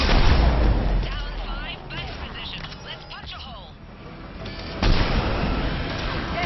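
Mass Effect 3 assault rifle fire against harvesters, with repeated bursts and blasts in a noisy battle, a sharp burst near the end, and voices talking over the combat.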